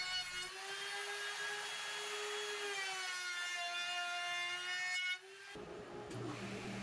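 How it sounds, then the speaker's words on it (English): A trim router rounds over the outside corners of a wooden box frame for a toddler's activity box, giving a steady high-pitched whine that holds for about five seconds, then cuts off abruptly before a brief rougher tail. "round over all outside corners with the trim router"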